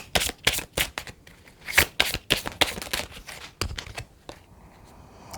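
Tarot cards being shuffled and drawn, a rapid run of crisp, papery riffles and snaps close by, with the flicks coming in quick bursts and easing into softer handling toward the end.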